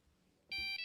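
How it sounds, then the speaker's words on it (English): A phone starts ringing inside a drawer with a bright electronic tone. It comes in suddenly after a faint quiet room and sounds clear and fairly close. "the phone's ringing"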